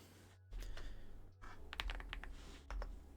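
A computer keyboard clatters with a short burst of quick keystrokes as a password is typed, faint and close, over a low steady hum.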